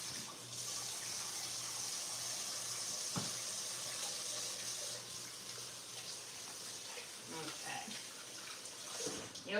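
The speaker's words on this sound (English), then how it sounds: "I'm gonna give my hands a good wash now" A kitchen tap runs steadily while hands are washed under it, a constant moderate rush of water with brief splashing and shifting toward the end.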